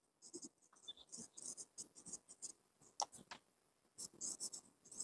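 Pen strokes scratch quickly while notes are written during an organic chemistry lesson on IUPAC nomenclature. The short, rhythmic scratches come close and quiet, with brief pauses between words.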